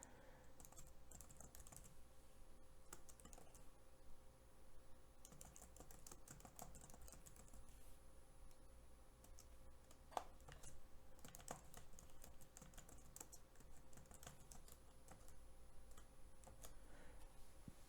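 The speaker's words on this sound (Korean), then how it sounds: "도형을 선택한 후 키보드로 텍스트를" Fingers tap steadily on a computer keyboard to enter slide text in PowerPoint, quick runs of soft clicks that come in bursts and pause, faint and close in a quiet room.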